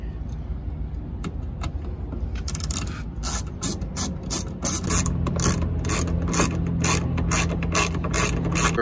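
A ratchet tightening the bolts on a Lexus-style aftermarket taillight fitted to a 2019 Toyota Camry, close rapid clicking in repeated bursts against faint background noise.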